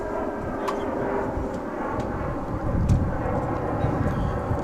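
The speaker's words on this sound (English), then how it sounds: "The next plane to arrive is going to be American Airlines Flight 1048. It's an Airbus A321." An American Airlines Airbus A321 arriving at DFW from Los Angeles, a steady broadband jet rumble that swells slightly midway, heard from a distance with wind noise and faint voices over it.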